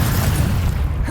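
A Confringo blasting spell detonates in the Hogwarts Legacy video game, a loud, dense booming explosion filling the whole moment with a rolling roar.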